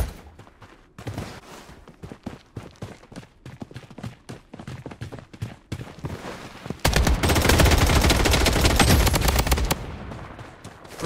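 Gunfire rattles in the shooter game Blood Strike: scattered single shots and short bursts, then a long sustained automatic volley, loud and close.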